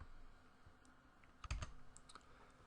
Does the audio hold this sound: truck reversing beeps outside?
no